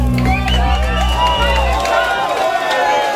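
A concert crowd cheers and whoops loudly, with voices rising and falling over dense applause as the band's music fades out beneath them.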